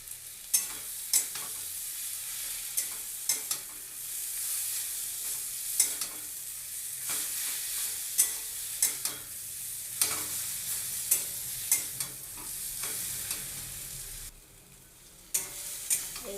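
Taro leaves with turmeric fry in a pan, a soft constant sizzle broken by regular clacks and scrapes of a spatula stirring them every second or so, close up, with a brief quieter pause near the end and no voices.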